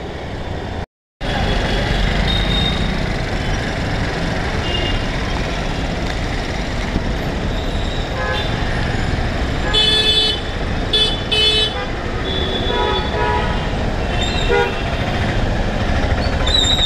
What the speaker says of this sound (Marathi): एवढी भयानक ट्रॅफिक झालेली आहे